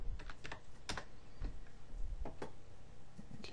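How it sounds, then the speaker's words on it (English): Close, rapid keystrokes come from typing on a computer keyboard, uneven clicks tapping out a short entry in a quiet room. "go into the URL and type in gmail.com"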